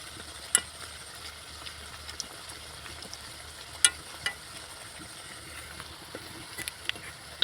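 Dhakai paratha frying in hot oil in a pan, a low steady sizzle with occasional sharp clicks and taps of a spoon, while someone talks over it.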